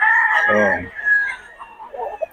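A blue stag gamefowl rooster crows loudly once at an open-air market, a strained rising call followed by fainter clucks and nearby chatter.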